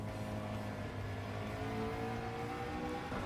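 A race car in Gran Turismo 7 accelerates out of a tunnel section at Trial Mountain with a steady, droning engine tone that holds and slowly climbs, faint and continuous with no talk over it.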